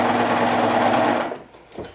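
A sewing machine stitches in a fast, steady buzzing run for about a second, then stops abruptly, leaving a few soft clicks.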